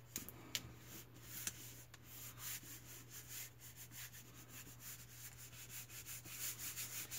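Steady back-and-forth rubbing of a hand pressing a paper decoration flat onto a cardboard USPS flat rate box, close and quiet, with a faint low hum underneath.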